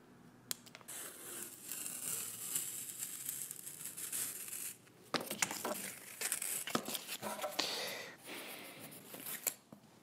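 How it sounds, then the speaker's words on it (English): Paper is peeled off cardboard with crinkling, tearing rustles in uneven bursts up close, a brief lull midway then more rapid ripping. "So now let's take off the first layer of paper."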